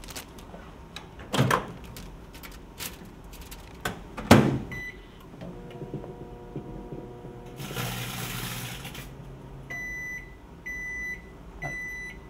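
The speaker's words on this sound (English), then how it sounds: "simply put it in the microwave on high for 5 seconds" A microwave oven runs on high, humming steadily for a few seconds, preceded by a couple of clunks and followed by a series of short electronic beeps.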